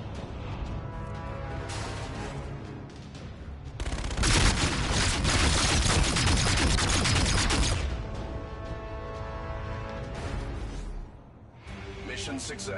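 A De-Atomizer Strike in a video game pours out a loud, dense burst of rapid gunfire for about four seconds, set within game sounds and a voice talking.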